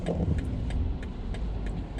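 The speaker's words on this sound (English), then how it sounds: "So wait for this car to go past" A car passes on the road in a low, steady engine rumble heard from inside another car, with a faint ticking indicator repeating at regular intervals over it.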